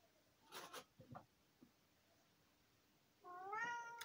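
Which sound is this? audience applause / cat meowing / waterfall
cat meowing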